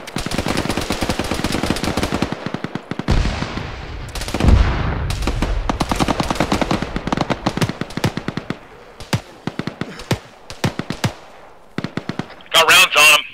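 Gunfire in the ArmA 3 military shooter game: dense bursts of automatic rifle fire and rapid shots, with a heavy explosion-like boom partway through, loud and close and continuing in clusters to the end.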